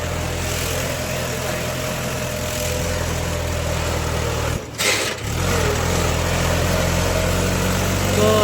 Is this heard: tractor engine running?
yes